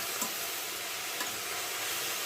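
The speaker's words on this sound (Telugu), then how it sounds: "ఈ పాలకూర కొంచెం మగ్గేదాకా, అంటే పచ్చి వాసన రాకుండా ఉండేంత వరకు మనం వేయించుకోవాలి." Chopped spinach frying in a pot for Andhra-style dal, a steady close sizzle with faint stirring scrapes and no voices.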